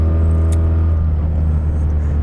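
BMW sport touring motorcycle engine idling close by, a loud steady low rumble with even tones held throughout, with no talk.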